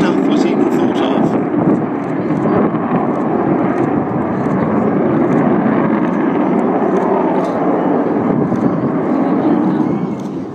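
Avro Vulcan XH558 delta-wing bomber flying past at an air display, a loud continuous broadband jet roar that swells slightly and holds steady, with a voice talking over it.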